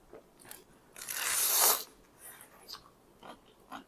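Raw green vegetables dipped in spicy sambal are bitten and chewed up close, with one loud crisp crunching bite followed by softer, scattered chewing sounds and faint mouth noises.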